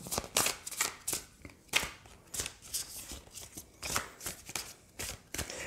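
Tarot cards being shuffled before a draw, a close run of crisp riffling and slapping bursts repeating in an uneven rhythm, with no voices over it.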